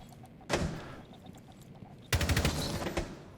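Gunfire from a first-person shooter video game: a single loud burst, then after a pause a rapid automatic volley of closely spaced shots, close and punchy.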